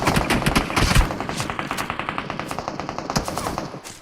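Rapid automatic gunfire from a video game rattles on in dense, steady bursts, loud and close for the whole stretch with no voices over it.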